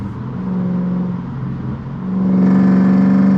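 A Mercedes C55 AMG with Kleemann headers, valved mufflers and straight-pipe exhaust, its valves open, drones at a steady idle-like pitch. It then revs up into a louder, deeper, buzzing roar that holds close and strong.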